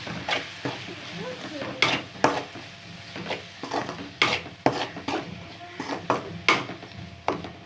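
Spices for a potato and pea kurma sizzle in a hot pan as a spoon scrapes and stirs in quick, irregular strokes, steady frying hiss underneath.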